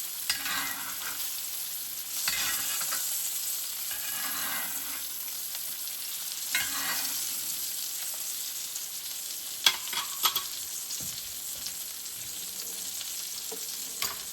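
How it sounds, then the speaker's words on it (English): A ribeye steak sizzles loudly in a hot pan as butter is spooned over it, a continuous close frying hiss with a few sharp spatters and clinks from the spoon. "we're going to take that butter, and we're going to put that butter all over our steak."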